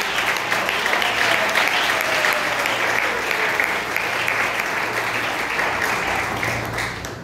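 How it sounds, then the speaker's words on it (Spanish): A church congregation applauds steadily together for about seven seconds, a dense, even wash of clapping that holds at one level before easing slightly at the end, with a faint tone gliding underneath. "Den un aplauso al Señor de la gloria."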